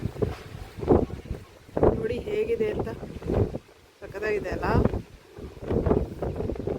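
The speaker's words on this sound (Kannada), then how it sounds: "ಎಷ್ಟು ಜೋರಾಗಿ ಗಾಳಿ ಬೀಸ್ತಾ ಇದೆ ಅಂದರೆ ನಿಂತ್ಕೊಳ್ಳೋಕ್ಕಾಗ್ತಾ ಇಲ್ಲ" Strong wind buffets the microphone in loud gusts, with people talking over the roaring rush of air.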